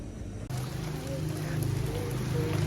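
Light autumn rain begins falling, a soft steady patter of drops on surfaces that grows gradually denser, under a low background hum and with no talking.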